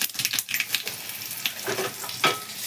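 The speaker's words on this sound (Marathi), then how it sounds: "इथं तडक्यासाठी ना दोन पळी तेल घातलंय मी आता थोडीशी मोहरी टाकते आणि कढीपत्ता" Mustard seeds and curry leaves crackling in hot oil for tempering, sharp irregular pops and spitting sizzle bursts over a soft frying hiss, close and fairly quiet.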